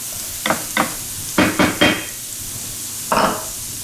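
Chopped celery hitting a pan of melted butter, several short bursts of crackling sizzle and scraping stirs, loud and close, separated by quieter pauses, with no talking.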